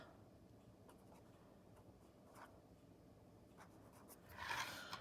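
A pen scratches out a short handwritten note on paper, very faint and close, with soft intermittent strokes and a slightly louder scribble near the end.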